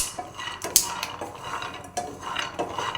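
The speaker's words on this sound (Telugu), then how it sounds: "ఇలా అన్నీ 1 by 1 రోస్ట్ చేసుకోవాలండి పచ్చివాసన పోయేంత వరకు." Dry fruits being roasted one by one in a pan give off repeated metallic scrapes and clinks of a spoon against cookware, irregular and close, with no voices.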